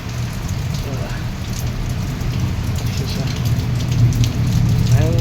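A downpour over a city street near a Mumbai metro station, a loud, continuous patter of rain on surfaces with a low rumble beneath that swells slightly toward the end.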